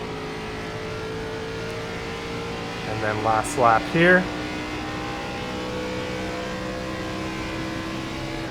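ARCA race car in iRacing at Nashville Superspeedway, engine droning steadily under partial throttle with a constant tonal hum, while someone talks briefly over it mid-clip.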